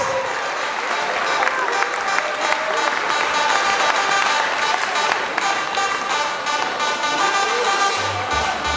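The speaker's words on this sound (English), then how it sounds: "Big, big round of applause." Loud sustained applause from a reception crowd after a performance, dense clapping filling the room for the whole stretch with crowd noise mixed in.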